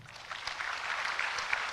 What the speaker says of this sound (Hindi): उसके लिए जोरदार ताली बजाओ